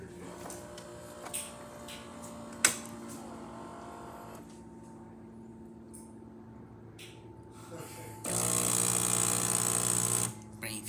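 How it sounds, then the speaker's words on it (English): A Gaggia Anima espresso machine, recently cleared of clogged spouts, pulls a single shot, with scattered mechanical clicks and ticks giving way to a loud steady pump hum near the end. "And now we're gonna be testing it out with one espresso shot."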